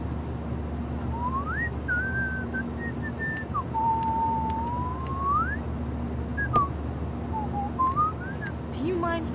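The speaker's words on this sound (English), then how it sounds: "Do you mind not whistling?" Whistled tune from a character in Life is Strange, a wandering melody of sliding, wavering notes carried over a steady low hum of background ambience, close and fairly clear.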